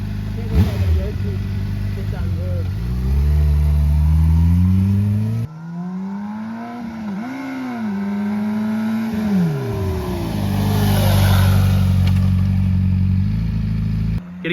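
Honda CBR600RR motorcycle during braking practice on a road: the engine revs up and down in long rising and falling sweeps, then rolls off as the bike slows, loud and steady over constant wind rumble, with a voice talking over it.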